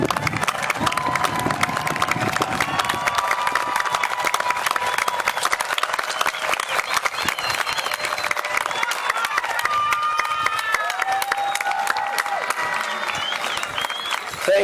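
Graduation crowd at a Western New Mexico University spring 2022 commencement breaks into sustained, loud applause and scattered cheers, a dense wash of clapping from many hands filling the hall for the whole stretch.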